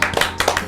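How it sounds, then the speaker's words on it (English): Brief burst of hand clapping for a podcast guest, a quick patter of a few claps close to the microphone, lasting under a second. "Let's give a round of applause for Quintendo"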